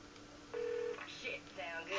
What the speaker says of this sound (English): Let's just use my phone to get the police off me.